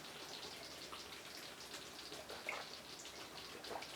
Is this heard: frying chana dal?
no